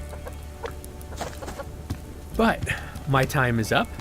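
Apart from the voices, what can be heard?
chicken clucking in video game Subsistence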